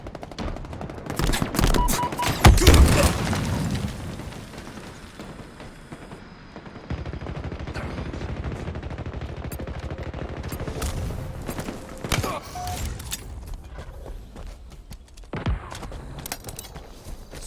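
Gunfire in the shooter game Halo Infinite comes in dense automatic bursts and scattered shots, loudest near the start, with mechanical clatter and rattles in the quieter stretches.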